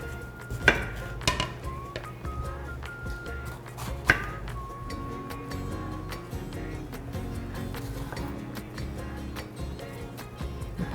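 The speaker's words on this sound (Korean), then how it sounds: "파프리카 잘리는 소리" A knife cuts fresh bell pepper into thin 5–6 cm strips on a cutting board, giving repeated crisp taps and slicing crunches in an irregular rhythm at close range, with a few sharper knocks.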